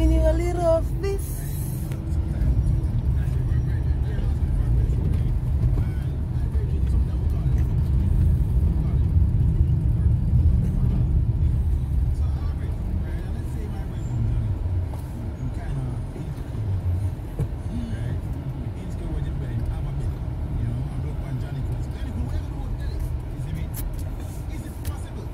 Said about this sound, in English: I'm downtown and I'm in traffic